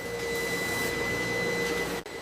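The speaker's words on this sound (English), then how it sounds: "Automated machines insert thousands of tiny bristles into the heads of the toothbrushes." An automated machine inserting bristles into toothbrush heads gives a loud, steady whirring drone with a sustained whine, then cuts off abruptly near the end.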